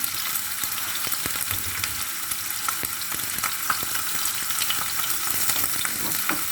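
Hot dog sausages fry in a little oil in a pan, crackling and sizzling continuously up close, with scattered pops and light stirring scrapes.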